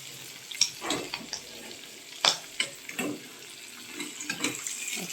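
Hilsa fish frying lightly in hot oil in a home kitchen: a close, steady sizzle with irregular spatters and the clink of stirring or turning throughout, and no voices.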